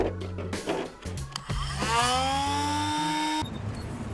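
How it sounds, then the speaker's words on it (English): A handheld rotary tool with a cutoff wheel cuts a fender flare for a 1993 Ford Ranger, giving a steady high, rising whine for about two seconds over lower mechanical hum, close and loud. "we're just going to go ahead and use our rotary tool with a cutoff wheel"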